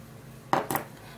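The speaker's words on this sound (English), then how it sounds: "we're going to be taking 3 tablespoons of the tomato puree into the aloe vera" Two quick clinks of a spoon against a bowl as tomato puree is spooned into aloe vera for a homemade skin remedy, sharp and close in a quiet room.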